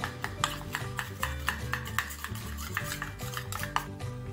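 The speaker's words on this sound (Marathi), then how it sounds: "यामध्ये आपल्याला 1 चमचा मैदा घालून घ्यायचा आहे आणि हे एकत्र मिक्स करून याच्या गाठी पूर्ण मिटवून घ्यायच्या आहेत" A spoon mixes ghee and flour (maida) together in a bowl, making quick, rhythmic scraping and tapping strokes against the side at close range, with a low hum beneath them and no talking.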